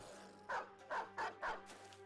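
A dog in the Battle Brothers video game barks four times in a steady rhythm, fairly faint, over a low background hum.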